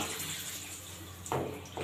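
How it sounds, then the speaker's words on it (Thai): A shower head in a dormitory bathroom sprays strongly, giving a steady close hiss of falling water with a couple of brief splashy bursts near the end. "นี่ครับ ความแรงของฝักบัว"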